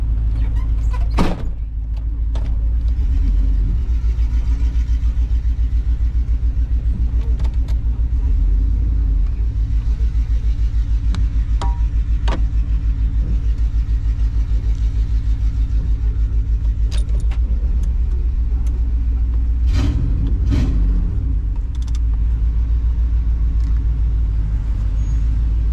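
A custom OBS Chevy truck idles with a deep, steady engine rumble up close, with a few sharp clunks and rattles as it is put in gear and starts moving.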